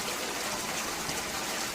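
Clean water pours steadily into a gold highbanker during prospecting in Arizona, a continuous close rushing splash with no talk over it.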